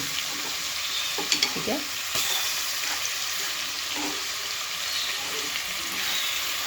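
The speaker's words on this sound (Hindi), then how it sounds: "इसको हम थोड़ा सा सौते करेंगे। और साथ ही हम इसमें अदरक डाल देंगे।" Ginger and garlic sauté in hot oil in a pan for chicken lollipop, a continuous soft sizzle with light stirring clinks, and a voice speaks briefly over it.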